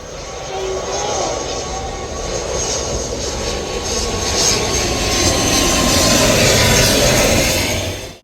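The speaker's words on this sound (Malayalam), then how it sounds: "അടുത്തൊരു വെറൈറ്റി ഫ്ലൈറ്റ് വരുന്നുണ്ട് കേട്ടോ" Loud, steady roar of a low-flying airplane overhead coming in to land, swelling slightly as it passes, with no talk.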